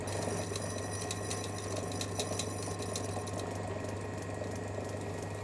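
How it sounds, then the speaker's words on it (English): A watchmaker's lathe in a back workshop restores a bad pivot on a clock wheel. It gives a quiet, steady motor hum with faint rapid ticking and rattling throughout. "I've got a bad pivot on this wheel, which I'm going to restore in this lathe."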